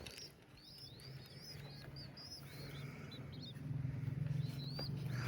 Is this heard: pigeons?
yes